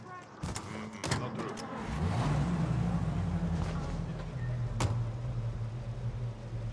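In Mafia Definitive Edition, a car door thumps a couple of times, then the engine of a 1930s-era car starts and runs with a low, steady drone close by.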